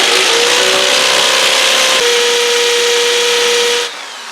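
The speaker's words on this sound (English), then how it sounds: "I have changed to this slightly larger masonry drill now, and I have made one hole already" A slightly larger masonry drill bores into a bathroom wall, whining steadily and loudly with a sustained pitched tone that shifts once, then cuts off near the end.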